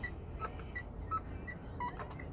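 The second turn-signal tone choice on a Nissan Livina: soft, repeated electronic ticks and beeps in a steady rhythm, faint over a low cabin hum.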